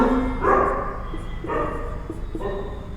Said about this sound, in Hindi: यहाँ पे थोड़े से कुत्ते हैं, सुबह के टाइम भौंक रहे हैं